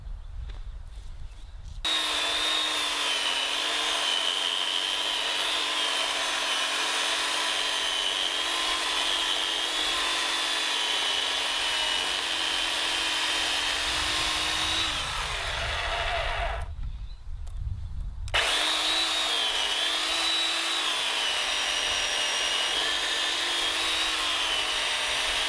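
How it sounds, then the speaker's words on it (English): An old Craftsman 2.5 HP electric corded chainsaw cuts through wood, including a knot, with a loud, steady high-pitched motor whine and rasping chain noise that runs almost continuously, briefly stopping twice. "That cuts pretty darn good for an electric chainsaw."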